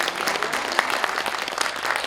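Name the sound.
audience applause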